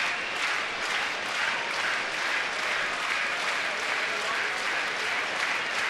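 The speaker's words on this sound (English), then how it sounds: "House making some noise here at Camden Yards" Steady crowd roar and applause fill a baseball stadium at Camden Yards during a Texas at Baltimore night game, a dense continuous wash of cheering heard from within the stands throughout.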